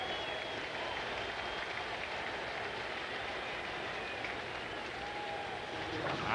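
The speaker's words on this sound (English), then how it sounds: "This crowd applauded the defense of Freddie Guzman in right center field." Baseball crowd at a Padres–Cardinals game applauds a defensive play in right-center field, a steady broad wash of clapping and cheering held at a constant level throughout.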